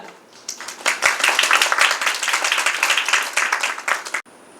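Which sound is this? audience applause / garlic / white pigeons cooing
audience applause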